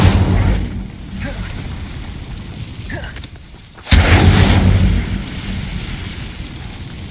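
Incendio fire spell cast in Hogwarts Legacy, a loud burst that cuts in sharply partway through, followed by a sustained roaring rush that slowly eases off, with faint game sounds before it.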